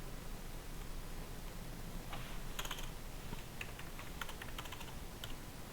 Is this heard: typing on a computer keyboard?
yes